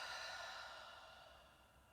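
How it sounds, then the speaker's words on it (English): A long deep exhale during a yoga breathing exercise, a soft airy breath out that fades gradually, close and quiet. "And exhale."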